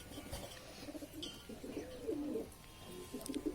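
A pigeon coos softly a few times at close range, low murmuring calls over a quiet background with no voices.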